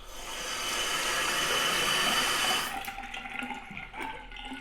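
A hand sink faucet runs with a loud, steady rushing hiss, then cuts off abruptly. Afterward, faint knocks and gurgles come from the plumbing.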